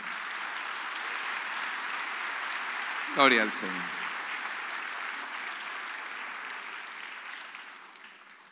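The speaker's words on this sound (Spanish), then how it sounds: "Le damos un aplauso de gratitud a Él." A church congregation gives sustained applause of gratitude, an even spread of clapping that gradually fades, while one voice briefly calls out in praise midway.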